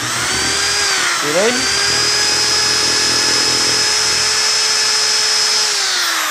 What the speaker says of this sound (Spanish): entonces ahora sí podemos prender el taladro a toda velocidad